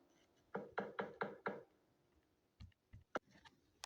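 Knocking on a door in a Toca Boca video game: a quick series of five knocks, then a pause and a few softer taps, crisp and close against a quiet background.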